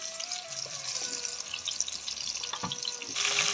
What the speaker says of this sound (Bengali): এখন এটাকে আমি ভাজতে দিয়ে দিচ্ছি